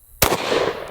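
A shotgun fires a birdshot load at Dragon Skin body armor: one sharp, loud blast that cracks out suddenly after brief quiet, then a lingering echo and ringing tail.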